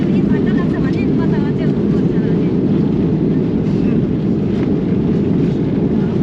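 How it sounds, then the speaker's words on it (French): Steady, loud low roar of airliner cabin noise while an airplane lands, a continuous rumble with faint voices underneath. "Ça bouge, sacré atterrissage."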